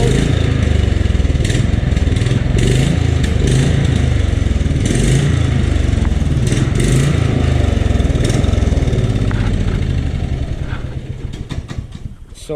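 A lawn tractor fitted with a swapped-in motor idles with a steady, loud, throbbing engine rumble close by, then gradually winds down and sputters toward the end.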